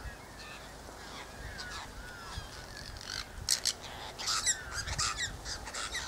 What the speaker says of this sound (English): What are those screeching birds?